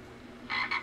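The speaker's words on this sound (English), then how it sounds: "The frogs come out at night." Frogs croak at night, two quick rasping calls in close succession over a quiet low hum, brief and fairly near.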